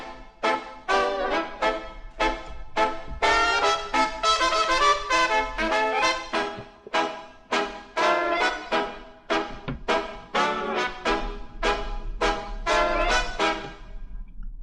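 A song played back with stereo imaging, EQ and added reverb applied in mixing, a steady loud track of sung or played phrases in short bursts with a roomy, present tail, no talk over it.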